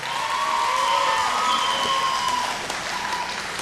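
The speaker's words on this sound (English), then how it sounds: "another round of applause, please, for Ursula Anorea." An audience at a televised vocal fusion singing competition claps and cheers steadily for about four seconds, a dense continuous wash of applause with scattered shouts, and no talking.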